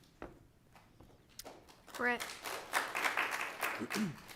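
A city council meeting audience breaks into applause after a brief pause, with a voice speaking over the start and the clapping building to a moderate, steady patter in a large room.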